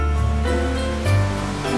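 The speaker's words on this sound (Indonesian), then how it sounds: "Air laut yang tenang dengan depu deburan ombak." Gentle surf breaks on the beach at Kumamba Island under calm sea conditions, with a steady soft wash of waves and one fuller swell rolling in near the end.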